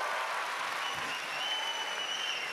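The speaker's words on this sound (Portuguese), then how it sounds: "Uma salva de palmas para a minha célula." Audience applause after a church preacher's remark, a dense, steady wash of clapping held at an even, moderate level throughout, with a faint murmur of crowd beneath it.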